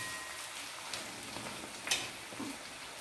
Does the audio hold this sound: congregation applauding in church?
no